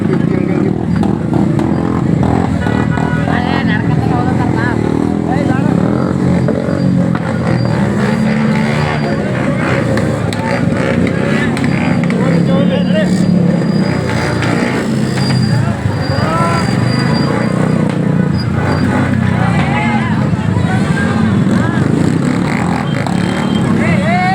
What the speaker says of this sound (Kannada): ಬೈಕ್ ಸೌಂಡ್ ಹಾಕ್ತಾರೆ